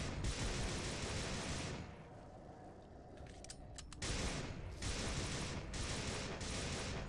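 Rapid bursts of automatic gunfire in the video game System Shock 2 rattle continuously, pausing briefly midway before resuming, with a harsh, dense crackle throughout.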